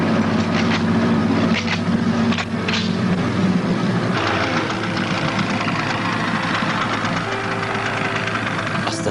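Vehicle engine revving and accelerating in a war film scene: a loud, rough continuous engine roar with shifting pitch and rumbling knock, close and steady throughout.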